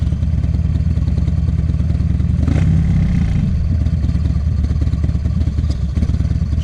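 2009 Buell XB1200ss with a Jardine exhaust being ridden, a steady low rumbling engine drone with wind noise and a brief swell midway, heard from the rider's position with no talk.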